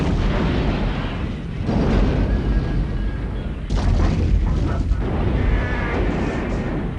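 A building blows up in a Japanese Lupin movie, producing a heavy, sustained roar of blast and debris that surges twice, loud and rumbling throughout.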